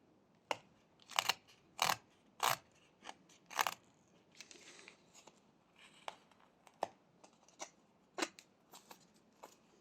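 A carving knife making stop cuts into a small block of wood for a fox face, a series of short, sharp crisp clicks and scrapes, close and fairly quiet, spaced irregularly across the stretch.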